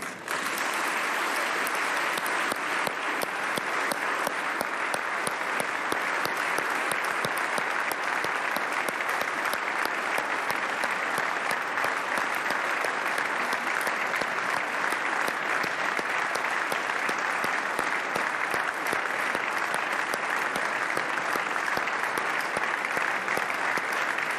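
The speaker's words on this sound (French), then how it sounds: "que nous les applaudissions" Standing applause in the French Senate, a long, sustained, even roar of many hands clapping in a large chamber, steady and dense throughout with no speech over it.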